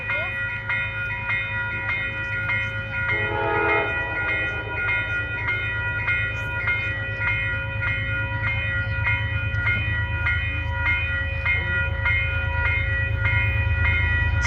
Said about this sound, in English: This is a Metro North deadhead, Croton Harmon to Poughkeepsie at 5:05.